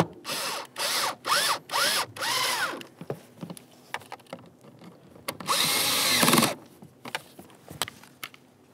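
A power drill whirs in several short pulsed bursts and then one longer run, driving screws into the blower motor module of a 2002-2009 Chevrolet Trailblazer, with clicks and handling noises between.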